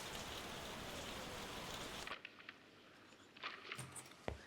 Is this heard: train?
no